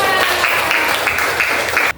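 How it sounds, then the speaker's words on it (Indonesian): Grade 6 students in a classroom clap together loudly and densely in a rhythmic, pulsing pattern, then the clapping cuts off abruptly just before the end. "Tepuk tangan dulu buat kalian semua"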